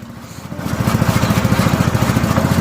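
A petrol-engine fodder chopper runs up from a low rumble into a steady, fast, pulsing engine chug, loud and close, with no voices.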